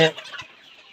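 Layer hens clucking at a poultry farm: a brief burst of close clucks that fades quickly into a soft background murmur.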